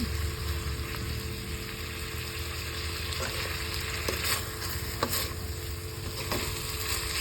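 Chicken curry with tomatoes frying in a pot, a steady close sizzle running throughout with a few soft scraping stirs breaking through now and then; no voices.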